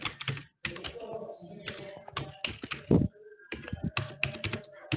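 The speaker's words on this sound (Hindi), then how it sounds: "वेबसाइट का जो डोमेन है वो मैं टाइप कर देता हूँ।" Someone types a website domain on a computer keyboard, with quick bursts of close, crisp key clicks separated by short gaps.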